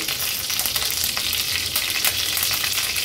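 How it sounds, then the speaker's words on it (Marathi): Curry leaves sizzle in hot oil for a tempering in an onion- and garlic-free vegetarian thali, a steady dense crackle with faint spitting pops, close and fairly loud throughout. "आता कढीपत्त्याची पानं फोडणीला घालते."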